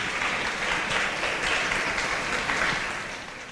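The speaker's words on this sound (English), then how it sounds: "We can give them a round of applause as they take their seats." An audience at a tech panel event claps as panelists take their seats, a soft, even wash of applause heard from a little distance that fades slightly toward the end.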